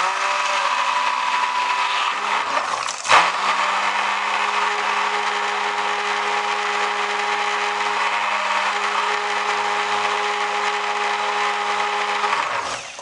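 An electric blender whirs steadily while mixing soap batter, a loud constant motor hum that briefly dips and surges near the start and then runs evenly until it winds down at the very end.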